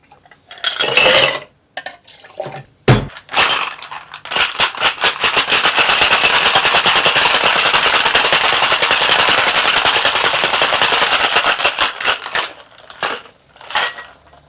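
A cocktail shaker packed with ice is shaken hard for a Flip cocktail, a loud continuous rattling of ice against metal building after a few short jolts, close up and alone without voices.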